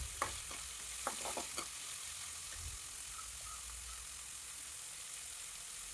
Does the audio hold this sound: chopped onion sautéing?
yes